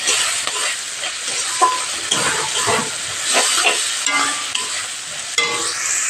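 Shrimp frying in a pan with chilli powder, a steady close sizzle with bursts of crackle and scraping stirring strokes throughout.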